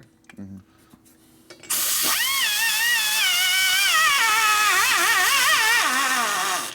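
High-pitched whine of a rotary cutter grinding a Harley Sportster XL 1200 cylinder head, starting abruptly after brief quiet and holding loud and steady, its pitch wavering as the speed and pressure change.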